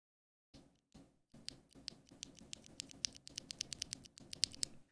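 Zykos tactile keyboard switches pressed one after another, a few spaced clicks first and then a quicker run of crisp, close, clacky keystrokes with no voices.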